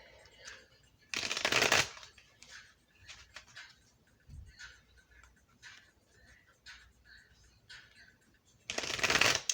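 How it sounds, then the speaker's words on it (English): Tarot cards are riffled in two quick bursts, one early and one at the end, with soft tapping and handling sounds between them. "I'm going to go ahead and shuffle a little bit more"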